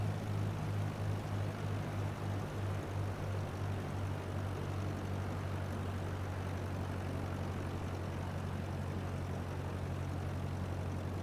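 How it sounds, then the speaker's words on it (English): A Cessna 152 propeller plane in Microsoft Flight Simulator 2024 drones with an even, low engine hum throughout, steady and unbroken at moderate level, with no talk. "flying the Cessna 152, a little bit easier than the other planes so far"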